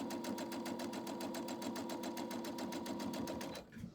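Sewing machine running steadily, stitching a quarter-inch seam on a 12.5-inch quilt block, with a fast regular needle chatter that is close and loud for about three and a half seconds before stopping.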